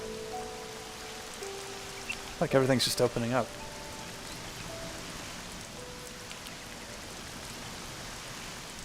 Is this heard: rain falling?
yes